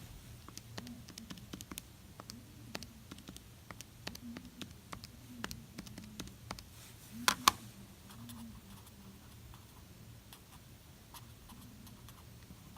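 Soft, steady typing on a computer keyboard, quick irregular key clicks with a slightly louder burst of taps partway through.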